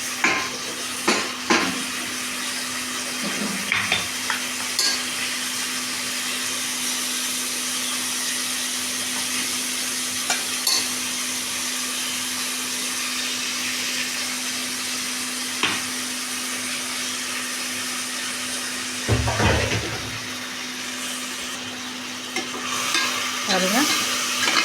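Ginger garlic paste and blended ripe tomatoes fry in a pan, a steady close sizzle with occasional spoon and pan clatters, continuous and even, no talking.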